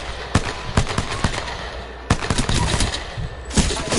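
Gunfire from a shooting video game against bots: a few sharp, loud separate shots and short bursts spread through the clip, standing out over a steady low background hum.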